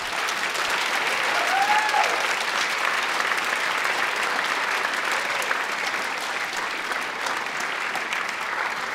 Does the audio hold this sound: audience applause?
yes